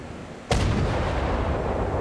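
A single heavy naval broadside in a warship video game breaks an earlier quiet with one sharp, loud boom, then a long rumbling tail.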